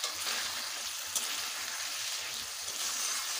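Chopped medium tomato sautéing in a pan with a little water for a hotel-style egg curry, giving a steady, close hiss of frying and sizzling throughout, with no talking.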